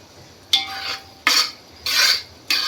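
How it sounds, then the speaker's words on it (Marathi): A spoon scrapes and stirs a cardamom and clove mixture in a pot, with four separate strokes in an unhurried rhythm, close and fairly soft. "छान हलवायचं आहे."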